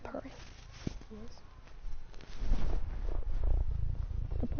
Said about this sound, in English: He's purring.